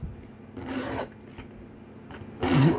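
Rough, raspy scraping of a hard stainless steel RF cable in two bursts with a short pause between, close up and fairly loud.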